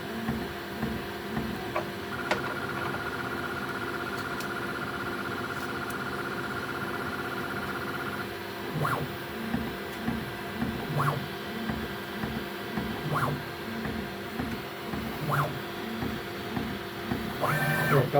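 A 3D printer lays down a part during a print demonstration, producing steady mechanical whirring with stepper-motor tones and repeated small ticks and clicks, fairly close and continuous throughout.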